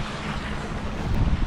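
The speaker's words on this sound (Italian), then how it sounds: "Euronic procede a motore in questo momento perché il vento è un po' poco" A sailboat under engine power at sea gives a continuous low rumble mixed with wind and water rush, steady throughout and growing slightly louder toward the end, with no voices.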